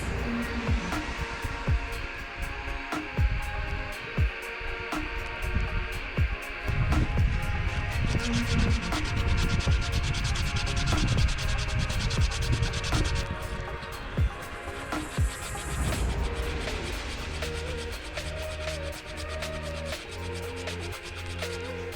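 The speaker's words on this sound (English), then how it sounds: "We'll be sanding them all smooth" Handmade Murray cod fishing lures are sanded smooth by the river, a long stretch of repeated rough rubbing and scratching strokes in uneven rhythm, close and moderately loud over a low hum.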